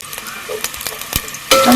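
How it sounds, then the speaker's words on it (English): Chopped onions and garlic drop into hot oil in a pot: a few light scrapes and taps, then a sudden loud, sustained sizzle up close for the final moments. "And then I'm going to add in my onions together with my garlic."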